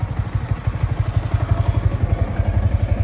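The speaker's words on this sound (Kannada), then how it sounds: "ಇದು ಬೈಕು ನಮ್ಮದು" Motorcycle engine idling nearby, a steady rapid low-pitched putter with even pulsing throughout, heard alone with no talk.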